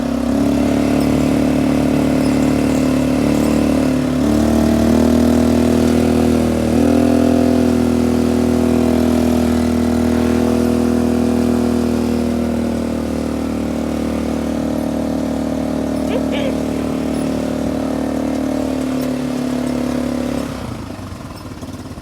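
A motorcycle engine runs loud and close, holding a steady rev with a brief surge early on before dropping away near the end, with no talk over it.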